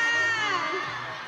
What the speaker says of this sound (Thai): ทักทายด้วยเสียงกรี๊ดกันไปเรียบร้อยแล้วฮะ